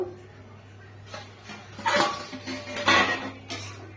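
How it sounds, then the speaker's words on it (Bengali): Metal clinks and clatters up close as a lid comes off a pot of bottle gourd curry, a few sharp knocks spread over several seconds. "ঢাকনাটা খুলে দেবো।"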